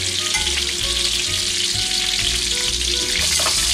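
Salisbury steak patties fry in a pan, giving a loud, continuous close-up sizzle with dense crackling and spitting from the hot fat and no voices.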